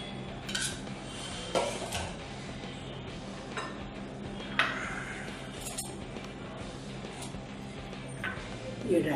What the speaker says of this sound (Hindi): अब मैं इसे दूसरे बाउल में लेके मिक्स करती हूँ।